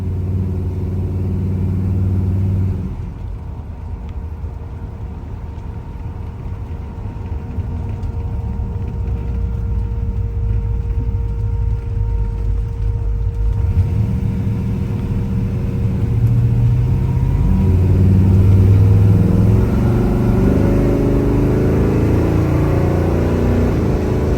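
A 1966 Chevy Caprice rumbles along a road, its exhaust note steady and droning with a dip partway through and a swell of revving near the end, close and alone without talk.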